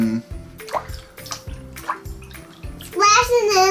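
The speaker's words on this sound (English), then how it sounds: "Splashing in the tub." A small toy splashes in bathtub water in a steady, repeated rhythm of close, light splashes and drips, followed by a voice.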